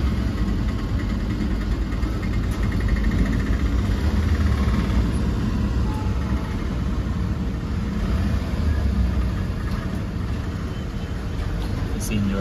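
A Hyundai i10 fitted with a Tomasetto OBD 2 CNG kit idles after switching to CNG. The low engine rumble stays steady and continuous throughout, close by, with no marked rev changes.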